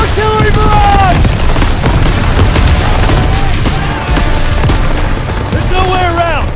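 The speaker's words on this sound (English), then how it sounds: "Artillery barrage!" An artillery barrage in the World War II video game Call of Duty WWII: loud continuous booms and explosions with gunfire crackle, close and heavy, while shouting voices and whistling shells sound over the din.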